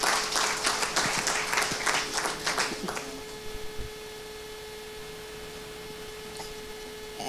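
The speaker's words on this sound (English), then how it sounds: "On peut l'applaudir chaleureusement" Conference audience at an AI event in Paris applauding to welcome a speaker, a dense burst of clapping for about three seconds that quickly dies away, leaving a steady electrical hum in a quiet hall.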